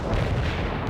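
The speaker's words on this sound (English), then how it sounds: "Targeting napalm strike" Napalm strike explosions in the World in Conflict video game form a continuous, loud, low roaring rumble of fire and blasts that stays dense throughout with no gaps.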